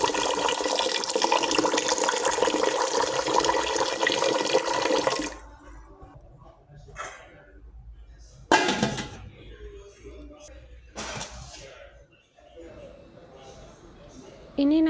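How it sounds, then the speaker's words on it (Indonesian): Filtered water gushes loudly over red rice being washed clean, a continuous pour for several seconds followed by quieter, intermittent splashes and trickles, with a voice talking nearby. "Aku cuci sampai bersih, dan ini aku taruh air filter ya."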